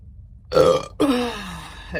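Two deep burps from a woman come in quick succession, the first short and loud, the second longer and gravelly as it fades away, both close and clear.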